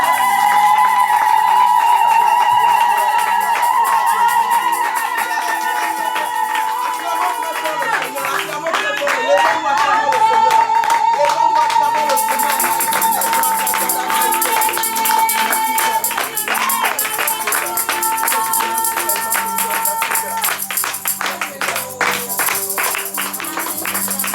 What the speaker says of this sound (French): Acclame plus fort et pousse ton cri de joie pour cela.